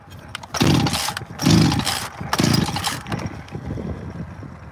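A chainsaw being pull-started outdoors without choke, three loud rasping bursts of cranking in a row, then the engine sputtering briefly and fading to a quieter rumble.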